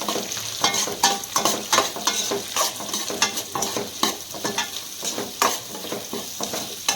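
Onions frying in oil for neer uppittu are stirred briskly, with a spoon scraping the pan in a quick irregular rhythm over a constant close sizzle.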